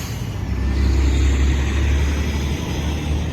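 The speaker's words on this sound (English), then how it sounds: "I'll just let this truck pass first." A truck rolls past close by with a loud, steady low rumble and road roar that swells and eases slightly over a few seconds.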